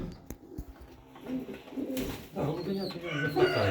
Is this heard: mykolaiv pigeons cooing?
yes